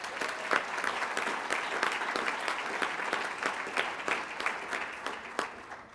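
At a state PTA annual convention general session, a large audience claps steadily for award-winning students, a dense, even wash of applause that thins out toward the end.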